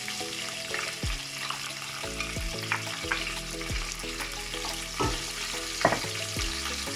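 Onions, chili and curry leaves fry in hot ghee, a steady close sizzle with spatula scrapes and clanks as the mix is stirred in the pan.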